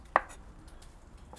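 A knife cuts eggplant into strips, one crisp, close chop against a board followed by faint quieter taps.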